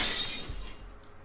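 Glass shatters sharply in the horror game Avarice, a bright crash that fades quickly into a low thud and near silence.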